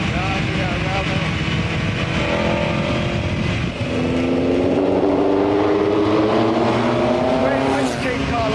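A 1959 Cooper Climax T51 Formula One car at Donington Park, heard from onboard: a loud, continuous engine drone that rises in pitch as it accelerates out of a corner, with a voice talking over it.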